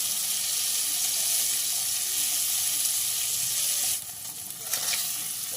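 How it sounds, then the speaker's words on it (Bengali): Paneer cubes frying in a pan for palak paneer give a steady, close hiss of sizzling oil that drops away briefly near the end before resuming more quietly. "পনিরগুলোকে দিয়ে ভাজতে থাকলাম।"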